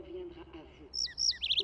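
A small cartoon bird gives several quick high chirps and tweets, faint and close, following a voice speaking in French.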